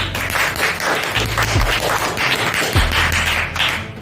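An audience claps for the first prize winner at a 2024 New Year food fest competition, a steady, dense patter of applause with no pauses.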